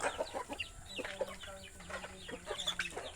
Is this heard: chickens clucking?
yes